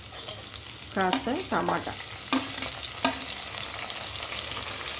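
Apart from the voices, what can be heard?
onions and green chillies frying in a pan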